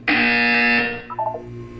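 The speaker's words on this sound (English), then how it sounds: "You will hear a buzzer." A loud electronic buzzer from the video game Portal 2 (a mod) sounds in one sustained tone for about three quarters of a second, followed by a few fainter electronic blips.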